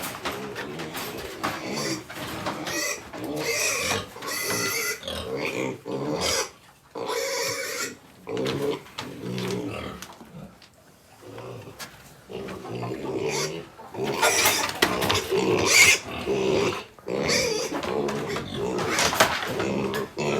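Piglets squealing and grunting while being handled for evaluation on a pig farm, with repeated loud, choppy squeals and snorts in bursts that cut in and out, some higher-pitched cries, close to the listener.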